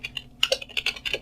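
Fingers type a Linux command on a computer keyboard, about a dozen crisp, close keystrokes in quick irregular bursts with a short pause, no voices.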